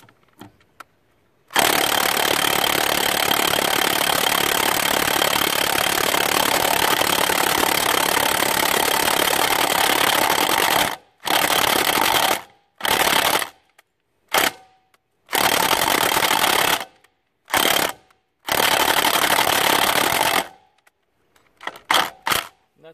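A DeWalt DCF899 impact wrench hammers at rusty trailer nuts. One long, loud, close burst of rapid impacting is followed by several shorter bursts separated by silence.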